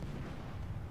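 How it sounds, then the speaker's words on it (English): Heavy warship guns fire in the naval video game Shipstream, a dense continuous rumble of low booms and blasts packed closely together over a second, loud and without any talk. "Let's set up for some gunnery."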